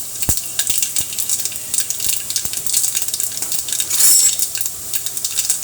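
Mustard seeds, fenugreek and two dried red chilies sizzle in hot oil in a pan for rasam, with steady crackling spatter and a few sharp pops and metallic knocks close by.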